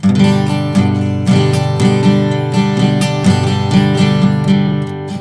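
Steady rhythmic strumming on a guitar with a pick, bright pick attacks repeating evenly over sustained chords, close and loud with no talking.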